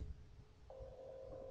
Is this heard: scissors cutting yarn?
no